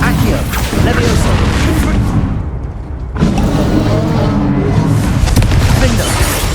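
Loud, deep booms of the Bombarda blasting spell in Hogwarts Legacy, heavy blasts with rumbling tails, one dropping into a brief lull before more explosions, with a voice shouting spell names over the action.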